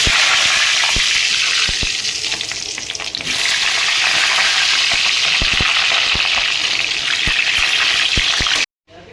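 Potatoes frying in hot mustard oil in a village kitchen, a loud steady sizzle and crackle with scattered pops, continuing without break before cutting off abruptly.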